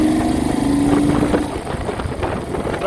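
A 1970 Moto Guzzi Ambassador motorcycle accelerating in second gear, its engine droning loud and near with a steady pulsing rumble that swells briefly before settling.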